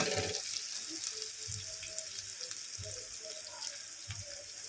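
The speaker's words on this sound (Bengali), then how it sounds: "আবার ওই মশলাটাকে একটু ভেজে নেব তেলে" Dry spices fry in hot oil for an achari brinjal dish, a soft continuous sizzle with faint scraping and occasional stirring bumps, fairly quiet and steady.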